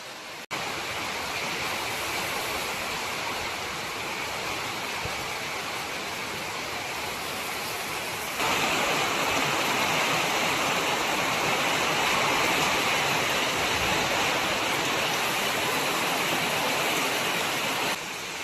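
Rain falls steadily in Konkan as a broad, continuous wash of hissing patter, swelling noticeably louder about halfway through and holding there, with no voices.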